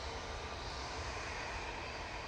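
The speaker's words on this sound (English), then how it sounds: "A321 Neo coming on. It's one of the Jet2 variants going off to Preveza." A Jet2 Airbus A321neo at Manchester Airport gives off a steady, even engine roar that stays constant, heard faint and from a distance, with no voices over it.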